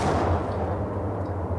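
An M79 grenade launcher fired in the Max Payne game, a loud low boom whose heavy rumbling tail fills the short clip, close and without speech.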